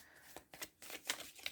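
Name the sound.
shuffling tarot cards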